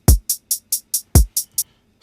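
Electronic beat of kick drum and hi-hat samples: two deep kicks with bright hi-hat hits in between, eight crisp evenly spaced hits over two seconds, loud and dry with no voices.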